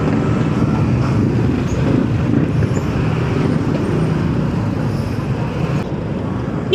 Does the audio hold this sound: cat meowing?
no